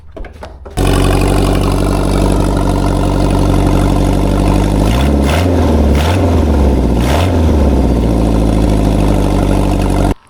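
A rare, unusual engine bought off eBay fires up for the first time, catching with a loud buzzing drone that holds steady, then surges and dips in a few revs before cutting off abruptly.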